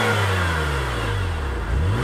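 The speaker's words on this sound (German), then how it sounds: "gib mal Gas" A Mercedes W211 E500 V8 revs up steadily, its deep engine note rising in pitch and holding loud and close for about two seconds, with no talking over it.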